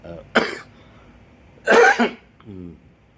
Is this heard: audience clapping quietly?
no